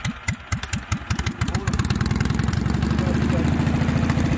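Racing lawn mower engine starting with a few sputtering bursts, then settling into a steady, loud, rapid idle putter close by.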